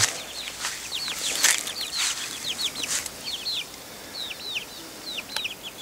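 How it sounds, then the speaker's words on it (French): Young chicks chirp and cluck repeatedly in high, rising peeps, with occasional wing flutters and outdoor background noise in a garden. "Les poussins qui sortent, qui vont dans le jardin."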